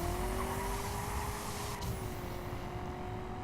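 A car in The Crew roars under a nitrous boost, with a sustained high engine whine and a rising tone over steady road rumble and tire noise, loud and continuous throughout.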